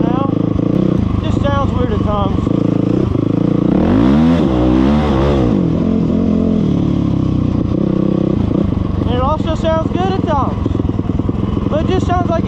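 A dirt bike engine idles roughly up close, its uneven putter sagging as if about to stall, with a couple of short throttle blips rising and falling in pitch.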